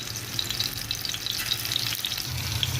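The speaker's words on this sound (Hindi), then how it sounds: "2 टेबल स्पून तेल लिया है, अब इसमें डालेंगे चिकन मीट बॉल।" Chicken meatballs fry steadily in a couple of spoonfuls of oil, giving a continuous close crackling sizzle with small bright pops throughout and no talking.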